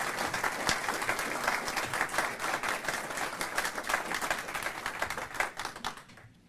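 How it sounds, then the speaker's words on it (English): An audience at a defense community ceremony honoring suicide prevention award recipients applauds, a dense, sustained round of clapping at moderate distance that tapers off at the close. "please join me now in applauding the Suicide Prevention Recognition recipients"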